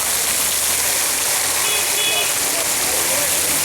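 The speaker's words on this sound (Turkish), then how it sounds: "Yağmur mu yağmur? Yağmur yağmıyor. O şelale." A waterfall at a mill site, heard as a steady, loud, close broadband rush with no breaks, with voices faintly present beneath it.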